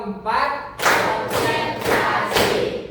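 Classroom students performing a counting clapping game together, a few loud group claps landing in rhythmic bursts alongside shouted chanting voices.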